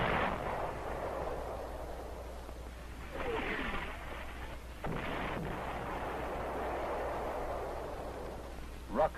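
Artillery fire and rockets from a Second World War battle on Saipan, from a wartime film soundtrack: a low, continuous rumbling barrage with scattered heavier thuds and a sharp burst near the end, at moderate distance.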